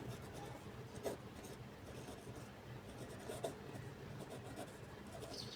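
A pen scratches across paper as a sixth-grade math lesson is written out, a faint steady scribbling with a couple of small taps, and no talk over it.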